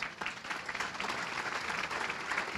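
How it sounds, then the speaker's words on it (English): Applause from a standing crowd of department alumni at a centennial celebration, dense steady clapping held at an even level for the whole stretch, no voices rising above it. "Now, let's give them a round of applause"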